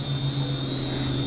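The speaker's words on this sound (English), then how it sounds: "And we've got a passenger plane" A passenger plane flying overhead with a steady droning engine hum and a constant high whine, loud and unbroken through the whole moment.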